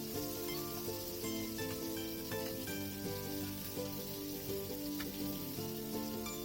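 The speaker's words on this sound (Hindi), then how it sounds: "अब ये चिकन थी जो मैंने मैरिनेट की थी इसको डालकर फ्राई करेंगे।" Thin pieces of marinated chicken fry in a pan with a steady, close crackling sizzle that holds even throughout, with faint stirring clicks.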